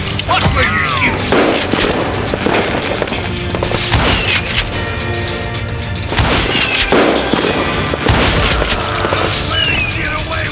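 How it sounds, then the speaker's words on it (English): Dense, loud gunfire from the Western shooter game Call of Juarez Gunslinger, rapid bursts of shots and booms overlapping continuously with no pauses. "Watch where you're shooting!"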